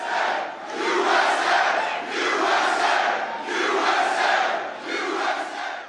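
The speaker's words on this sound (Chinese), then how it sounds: "大凯支持者大声欢呼" Trump supporters at a sneaker convention in Philadelphia cheer loudly in rhythmic, chant-like waves, rising and falling about four times.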